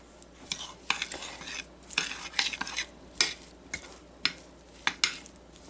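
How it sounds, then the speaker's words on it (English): Blueberries and water stirred in a bowl for a blueberry crumble: close, irregular scrapes and knocks of a utensil against the bowl with soft wet sloshing, no talk. "So you just give it a little stir and kind of leave it to almost marinate."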